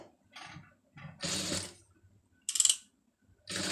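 A sewing machine runs rough tacking stitches through saree cloth for a sleeve, in several short bursts of mechanical whirring separated by brief pauses, close and fairly loud.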